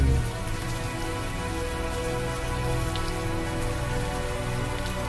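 Warm rain falls steadily in the open air in the adventure game Unavowed, a constant dense patter of drops on surfaces, close and even throughout with no voices.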